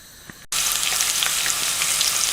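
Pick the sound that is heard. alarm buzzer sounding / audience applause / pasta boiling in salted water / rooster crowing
pasta boiling in salted water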